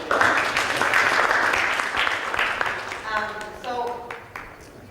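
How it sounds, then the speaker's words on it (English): An audience applauds the participants at a Latin America café event. Dense, steady clapping fills the room and gradually thins as a voice starts speaking over it. "I applause for everyone that participated"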